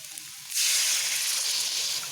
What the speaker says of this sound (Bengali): এখানে আমি কিছুটা জল অ্যাড করব